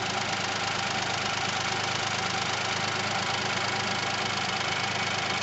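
A cold 2018 Hyundai Kona 1.0 T-GDi engine idles steadily with a constant low rumble and slight rough vibration, close and continuous throughout.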